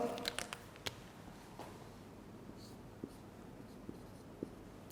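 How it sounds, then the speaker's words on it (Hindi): A lecturer writes on a board during a chemistry lesson: faint, intermittent scratchy strokes and light taps, with a few sharper marks near the start. "मैं यहाँ पे लिखता जाऊँगा साथ साथ।"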